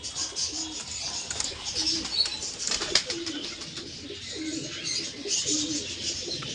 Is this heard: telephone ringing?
no